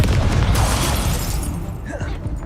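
A Confringo explosion spell blasts in the video game Hogwarts Legacy, a loud, close boom with a crackling burst that decays over a couple of seconds amid game sounds.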